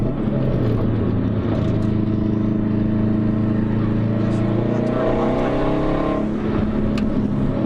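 Race car on a track during a Carfest 2017 ride-along, its engine droning loudly and steadily throughout with a pitch that shifts as the driver taps the brakes on a cooldown lap, heard from inside the car.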